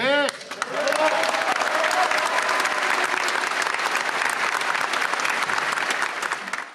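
Crowd applause swells up after a brief tonal sound at the start, then holds as a dense, loud, continuous roar of many clapping hands for several seconds before tapering slightly.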